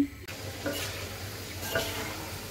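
Jali kebab fries in a pan with a steady low sizzle and occasional stirring touches, quiet and close, with no talk.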